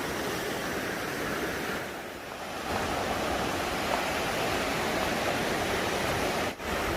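A mountain river flows in a steady, dense rush of water, loud and continuous from start to finish, with only a brief dip in level near the middle and a short gap near the end.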